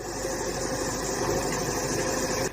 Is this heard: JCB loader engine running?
yes